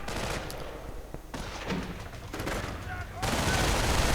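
Video game battlefield gunfire as grenadier squads fire away, with irregular crackling volleys and bursts of rifle and automatic fire, some near and sharp, others more distant, running beneath a commentator's voice.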